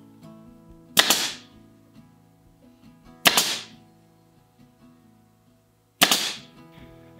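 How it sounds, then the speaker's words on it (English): A staple gun fires three sharp, loud snaps, spaced a few seconds apart, driving staples into woven seat material in a woodworking shop, with quiet handling noise between shots. "Gonna sneak the staple gun in."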